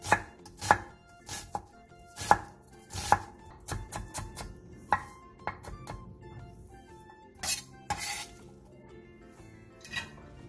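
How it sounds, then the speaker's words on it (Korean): Half an onion is finely minced with a knife on a cutting board, giving sharp, irregular close chopping knocks in bursts, with occasional light clinks. "양파 2분의 1개를 화면처럼 칼집을 넣은 뒤 잘게 다져주세요"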